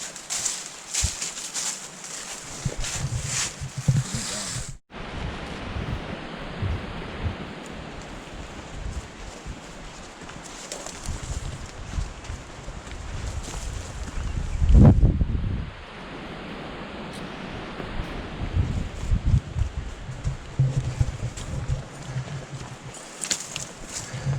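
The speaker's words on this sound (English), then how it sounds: "Wind's really starting to pick up with that front coming in." Wind gusting at a quiet campsite as a weather front moves in, a steady rushing roar buffeting the microphone, with a sharp break and a louder surge partway through.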